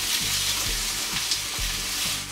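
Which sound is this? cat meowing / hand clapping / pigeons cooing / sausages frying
sausages frying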